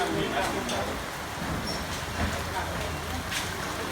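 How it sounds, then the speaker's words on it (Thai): Heavy rain from a storm falls steadily through the morning, a broad continuous hiss with occasional splashes, heard under someone speaking. "เช้าแล้วฝนยังไม่หยุดเลยนะครับ"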